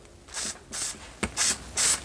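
Short bursts of aerosol spray misted onto the air filter of a Rovan Baja 5B 29cc gas RC buggy, four separate hissing puffs with brief pauses between them, close and fairly loud.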